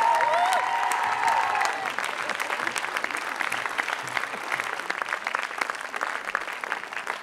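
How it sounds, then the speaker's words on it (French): Audience applause at a film premiere for Augustine, a dense, steady clapping from a large crowd that stays loud throughout, with a brief voice over the first two seconds. "Ange Rusé, je vais demander de les applaudir."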